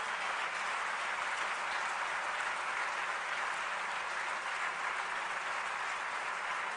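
Loud, sustained applause from the audience at the National Film Awards ceremony, an even wash of many hands clapping that holds steady throughout without voices.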